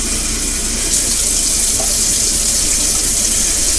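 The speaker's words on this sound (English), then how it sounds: "add some more water to this" Tap water pours steadily into a pan in a home kitchen, a loud, continuous hissing splash with no break and no voices.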